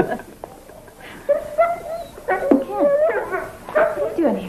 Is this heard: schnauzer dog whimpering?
yes